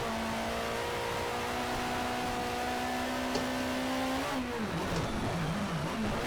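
A Ford Capri in the racing game Project CARS on the Nürburgring sends out a sustained engine drone that climbs steadily in pitch, then drops and wavers as the car shifts and lifts off, a continuous fairly loud sound with no talking.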